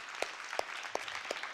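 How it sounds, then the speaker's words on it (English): Steady applause from a TEDx audience fills the clip, a dense wash of clapping with a few sharper, louder claps standing out at regular intervals. "I would like you to applause once more for those amazing artists and performers."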